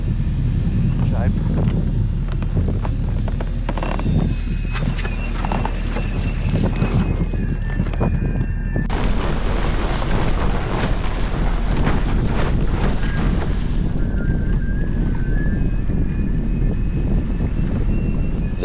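Strong wind roars and buffets the microphone while windsurfing on a lake in Switzerland, with rushing water and board noise swelling and easing throughout a long, loud stretch.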